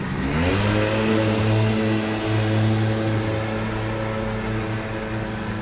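A loud Victory motorcycle engine revs up from idle and holds a steady, throaty rumble close by, with no voices.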